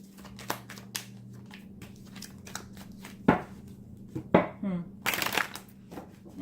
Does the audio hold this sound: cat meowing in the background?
no